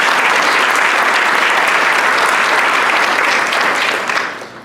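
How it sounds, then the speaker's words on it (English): Audience applause at a Rotary club meeting, loud and close, a dense steady clapping that runs a few seconds and then fades out. "So give them a round of applause."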